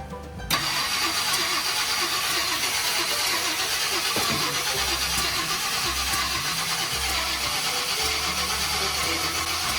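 A 1968 Ford Country Sedan that has sat for a while is cranked, starting with a sharp hit. A loud, steady mechanical drone then runs unbroken for about nine seconds, up close, with no talk.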